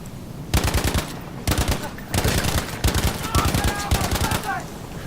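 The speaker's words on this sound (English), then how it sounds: "trying to hit the bots in the head with our STG" An STG assault rifle in Battlefield V fires rapid automatic bursts, about six close, loud rattling volleys separated by short pauses.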